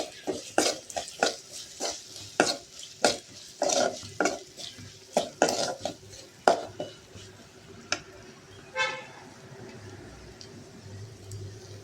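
Okra and grated carrot are sautéed with spice powder in a pan. A spatula scrapes the pan in a quick, regular rhythm of close strokes over a soft sizzle, then slows to a few scrapes.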